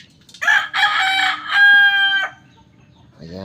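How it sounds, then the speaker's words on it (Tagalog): A female wild junglefowl (labuyo) pullet gives a loud, close, crow-like drawn-out call in a few strained segments, standing clear against a quiet background. "Ito po yung labuyo natin na babae na mayroong buo na kaliskis"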